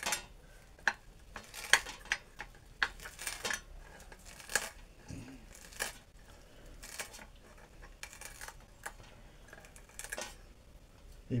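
Knife chopping red amaranth leaves on a cutting board, a quiet, uneven series of crisp cuts and taps scattered across several seconds with short pauses between them.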